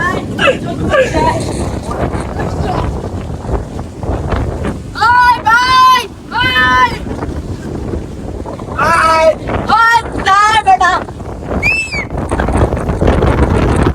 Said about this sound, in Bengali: এত বাতাস গাইস লাগতেছে।